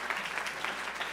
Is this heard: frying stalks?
no